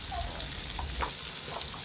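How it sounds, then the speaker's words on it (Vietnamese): Small anchovies fry in a pan, giving a steady close sizzle and crackle with occasional pops throughout. "Mùi cá cơm chiên lên đó."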